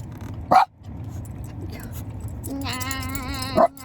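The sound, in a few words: dog barking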